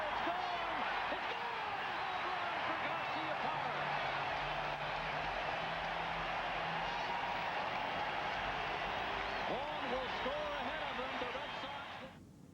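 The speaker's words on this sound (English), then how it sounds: "Another sellout crowd at Fenway, thrilled to watch the Red Sox come back to win" A sellout crowd at Fenway Park roars and cheers as the Red Sox come back against the Blue Jays, a dense, steady wash of noise that holds for about twelve seconds and then fades, with announcer talk underneath.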